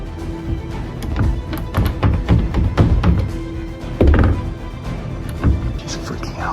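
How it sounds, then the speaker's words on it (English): Repeated hard thuds and knocks of fists banging on a bedroom door, irregular bursts of several blows with short pauses, close and loud, with some faint movement between hits. "Bang on his door."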